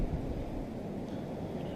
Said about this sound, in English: It's getting real windy.